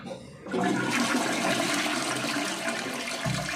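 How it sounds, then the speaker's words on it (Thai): A toilet flushes in a home bathroom, water rushing in suddenly and loudly, then running steadily for a few seconds before tailing off; no one speaks. "ทีนี้เอามากดน้ำได้เลยค่ะ"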